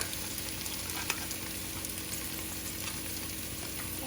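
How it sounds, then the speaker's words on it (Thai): Tomato paste stir-fried in a pan, a soft, steady frying hiss with faint scraping, heard close but quiet, with one brief click. "ใส่ไปเลยค่ะผัดให้หอมเลยนะคะ"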